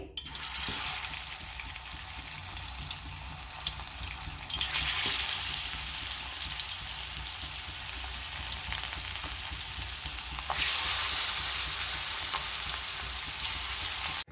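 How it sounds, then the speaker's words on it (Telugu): Chicken pieces fry in well-heated oil with a loud, steady sizzle that runs continuously throughout, a brighter surge of crackling partway in. "ఇప్పుడు చికెన్ ఫ్రై చేస్తున్నానండి ఫస్ట్ ఆయిల్ వేసుకోవాలండి ఆయిల్ బాగా మరిగింది కదండి ఇప్పుడు చికెన్ వేసుకోవాలి"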